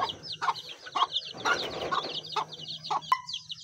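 A mother hen clucks in low, soft bursts while newly hatched chicks cheep in high, rapid peeps all around her, close by and continuous.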